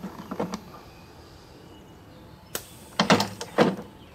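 Small servo-driven retracting landing gear and gear doors on an F-18 scale model whir through an up cycle, with a few faint clicks early on, then sharp mechanical clacks and short whirring bursts near the end, close and fairly quiet.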